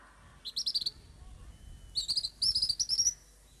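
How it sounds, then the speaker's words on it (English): A small bird gives two bursts of rapid, high chirps, close and clear, separated by a brief pause against a quiet background. "In this beautiful village of chirping birds and colorful butterflies lives Ahan"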